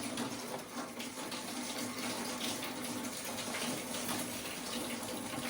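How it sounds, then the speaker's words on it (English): Water from a garden hose rushes steadily through the cooling system of a 1971 Dodge Super Bee, a continuous close hiss and gush with no break. "Flushing through there pretty good."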